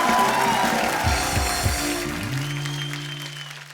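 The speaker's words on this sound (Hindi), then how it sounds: "जोरदार तालियां होनी चाहिए यार।" A studio audience at The Kapil Sharma Show, a comedy show, breaks into loud applause that tapers off over a few seconds as music swells beneath it.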